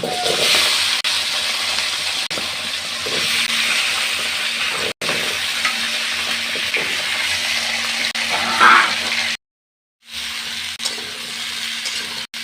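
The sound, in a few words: potatoes and flat beans frying in oil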